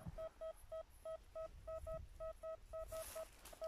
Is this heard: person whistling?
no